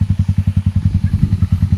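A habal-habal motorcycle taxi engine in rural Mindanao runs close and loud with a steady, rapid chugging pulse throughout, a low throbbing beat with slight clatter.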